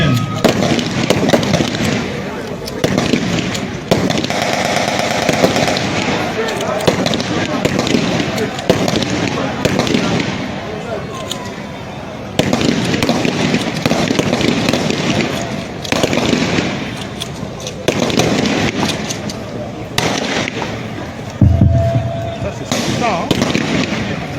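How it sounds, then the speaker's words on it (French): Smoke grenades pop and crackle repeatedly, covering a commando's sideways withdrawal during a military demonstration, a dense run of sharp bursts close by while a voice talks through the show. "Le décrochage latéral est couvert par les grenades fumigènes."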